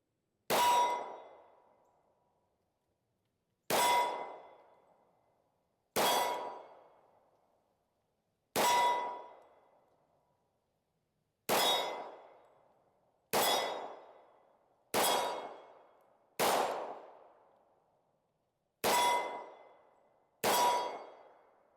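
A home-defense gun is fired at steel targets, each shot answered by a sharp ringing clang that decays slowly; about ten evenly spaced hits over twenty seconds with no talking.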